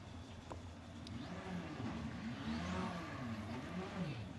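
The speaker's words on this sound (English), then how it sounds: "Ethan Jeffel steers the car into Parc Ferme" A BTCC touring race car drives into Parc Ferme at Thruxton, its engine giving a steady mid-distance drone with rising and falling revs as it rolls slowly in, beneath low background crowd and commentary noise.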